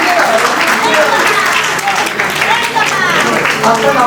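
Audience applause at a scholarship award ceremony in the Sundarbans, a dense, steady clapping from a sizable crowd that fills the whole stretch at full strength without letting up.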